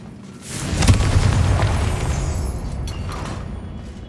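A Confringo blasting spell explodes in Hogwarts Legacy, a deep booming burst that swells after a brief lull and then rumbles on, loud and sustained, with no voices over it.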